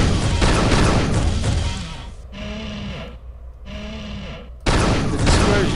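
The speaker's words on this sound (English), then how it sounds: "The dispersion pistol doesn't pack a whole lot of punch" Dispersion pistol from Unreal II: The Awakening firing a few shots: loud, dense bursts with short energy zaps between them, close and alone without speech.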